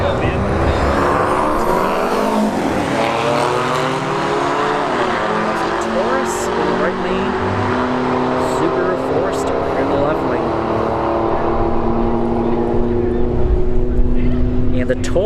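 Drag car Taurus roaring down the strip in street heat racing at 117 mph, a loud sustained engine drone with rising and falling pitch, over general track noise.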